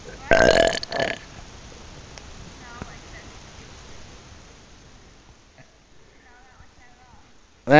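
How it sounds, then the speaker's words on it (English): A loud, close human burp sounds at the start, followed by a second shorter one, then quieter background noise with faint tonal sounds before a final sharp burst. "Did I hear a burp?"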